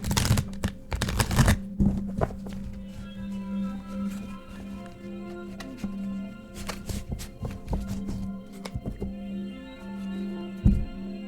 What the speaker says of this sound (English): I'm just going to shuffle first just to get them shuffled